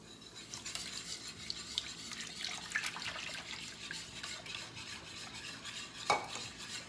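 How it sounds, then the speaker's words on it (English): Heavy cream and milk are whisked in a pot, a soft continuous scraping and swishing stir with light clinks of metal, fairly faint and close, and one brighter clink near the end, with nobody talking. "I'm just gonna keep whisking until it starts to simmer."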